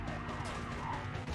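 Police car siren in the racing game Need for Speed: Carbon, wailing steadily beneath a dense layer of engine roar and road noise during a chase, with no voice heard.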